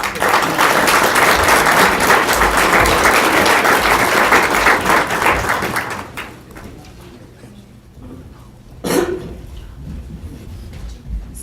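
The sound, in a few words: council meeting audience applause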